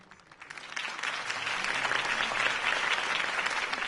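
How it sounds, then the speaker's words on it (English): A crowd applauds steadily, the clapping swelling after a quieter start and holding at a full, dense level throughout. "could have heard that applause"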